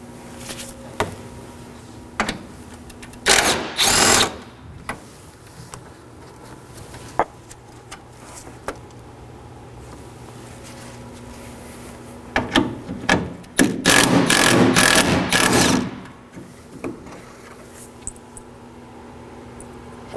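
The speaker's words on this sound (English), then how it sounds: "Now I'm going to remove two 10mm bolts." Two 10mm bolts are backed out of a 2013-2019 Nissan Sentra front bumper cover with a ratchet, giving two close bursts of quick clicking separated by quiet shop background.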